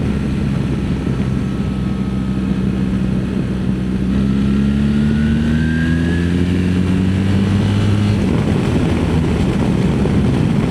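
A very heavy motorcycle, said to weigh over 50 tons, being ridden, with a steady engine drone and rising and falling tonal whine as it moves, loud and continuous with no talk.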